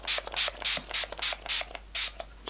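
Mario Badescu rose water facial spray is pumped in quick repeated bursts, about a dozen short hissing spritzes in an uneven rhythm, close and fairly quiet.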